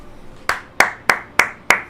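Five sharp hand claps in a slow, steady rhythm, close and fairly loud, each ringing briefly before the next, with nothing else beneath them.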